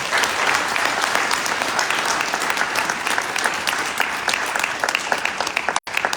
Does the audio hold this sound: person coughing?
no